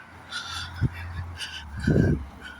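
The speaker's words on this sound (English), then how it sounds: "it's always a joy for me to hear the crows" Crows call in a garden, with a few loud, harsh cries at fairly close range spaced out over a steady background hum, the last call longer and fuller than the rest.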